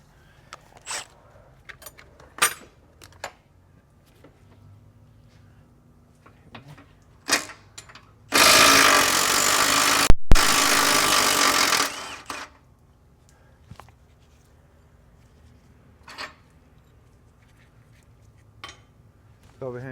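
An air impact gun hammers on rusted truck bolts in a loud, continuous burst of about four seconds, set among sparse clanks and taps of tools in a workshop.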